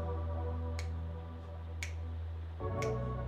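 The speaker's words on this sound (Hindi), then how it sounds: "मैं चुटकी बजा रहा हूँ इसका रीडिंग बढ़ रहा है" Three sharp finger snaps, spaced about a second apart, crack out close by over a steady low electrical hum in a quiet room beside a sound level meter.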